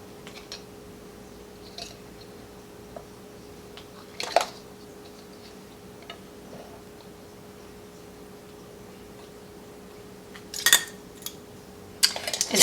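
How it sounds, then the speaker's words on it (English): Metal lids set onto canning jars of spiced honey: a few sparse, light metallic clinks and taps scattered over a quiet room hum, with a small cluster of clinks near the end. "And then we're going to place our lids."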